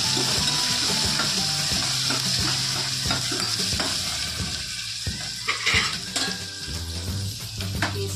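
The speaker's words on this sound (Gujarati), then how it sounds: "પછી બટેટા, સિંગદાણા, લીલા મરચાં, હવે તેને બધું મિક્સ કરી દઈશું" Potatoes, peanuts and green chilies sizzle in an oiled pan as a spoon stirs and scrapes them, making a continuous frying hiss with clanking utensil knocks that grow busier toward the end.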